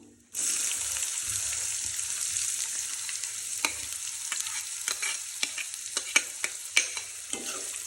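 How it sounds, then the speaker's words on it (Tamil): Onions sizzle in hot oil with chana dal and curry leaves, a steady frying hiss carrying on alone with sharp scrapes and clicks of a spoon stirring against the pan, growing more frequent toward the end. "நல்லா வதக்கிக்கோங்க."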